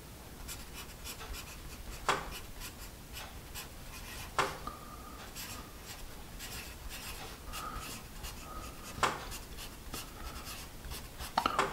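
Soft-core Musgrave News 600 pencil writing on paper, a steady close scratchy rasp of graphite strokes with a few sharper taps as the point lands, heard alone without talk.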